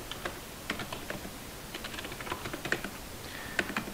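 Fingers tap quickly on a computer keyboard while Linux terminal commands are entered. The light, irregular key clicks stay fairly quiet and close.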